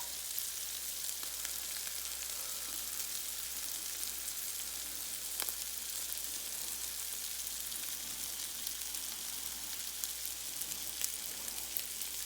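Sausage browned in a pan with tomato paste added, giving a steady, close broadband sizzle and crackle for the whole stretch, with a few faint clicks of a utensil and no voices.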